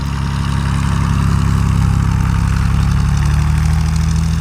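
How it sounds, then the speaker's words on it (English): A Cessna 172 taxis on a short runway, its piston engine droning steadily and loudly up close with a constant low rumble and propeller throb. "So here we are, we're taxiing back for another takeoff."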